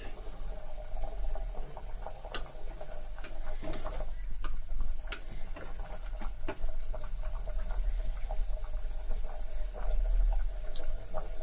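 A pot of mutton biryani at a rolling boil, with steady bubbling and popping close by and faint kitchen clatter, running for several seconds with no voices.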